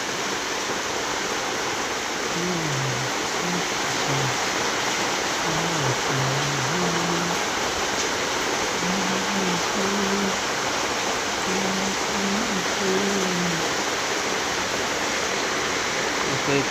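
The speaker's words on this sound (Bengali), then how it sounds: "প্রচুর জোরে বৃষ্টি হচ্ছে এখানে।" Heavy rain pours steadily under a dark, clouded sky, a dense and constant wash of noise that runs without a break, with a voice faintly audible underneath.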